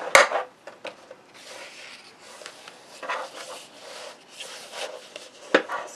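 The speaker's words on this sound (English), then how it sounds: "I'm going to bring in a bone folder. Sure those edges line up and burnish those creases well." A bone folder burnishes the creases of a paper gift card holder, giving soft dry rubbing strokes in uneven passes with a few light taps, close and quiet.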